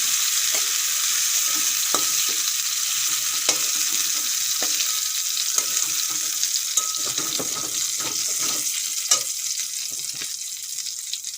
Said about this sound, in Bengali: চিংড়ি মাছগুলো আমি কুড়ি থেকে পঁচিশ সেকেন্ডের মতন ভেজে নিয়েছি